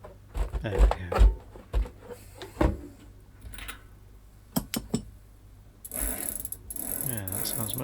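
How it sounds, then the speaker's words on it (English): Freewheel ratcheting from a Raleigh Pioneer Trail bike rear wheel after its bearings are serviced, with a few clicking spins and handling knocks, then a longer fast buzzing ratchet run near the end, close and fairly loud. "Yeah, that sounds much nicer."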